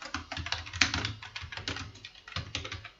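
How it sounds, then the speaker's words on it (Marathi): Steady typing on a computer keyboard while filling in an online caste certificate application form in Maharashtra, with rapid, close clicking keystrokes in uneven bursts and no talking. "तर चला इथे कुमार निवडतो आणि इथे लिहितो राजू."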